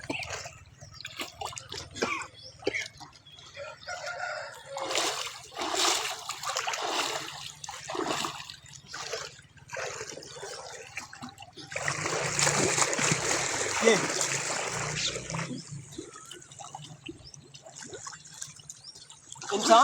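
Water splashes and sloshes in irregular bursts as a man struggles to push himself under the surface, with a louder, sustained stretch of churning splashes midway and a brief spoken word.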